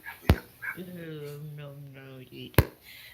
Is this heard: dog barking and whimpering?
yes